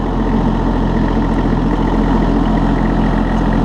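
A Massey Ferguson 1526 Hydro compact tractor runs steadily on cruise control, its engine a loud, constant low drone with an even hum and no voices.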